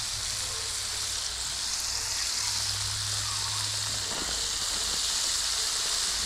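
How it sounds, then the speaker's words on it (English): Steady hiss and crackle of catfish frying in hot oil, continuous and close, with a low hum underneath and no talking. "Yeah, we got them frying there now."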